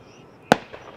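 A single sharp bang from a bird-scaring device fired by the bird controller at Amsterdam Schiphol Airport, heard once at a distance with a short decaying tail against a quiet background.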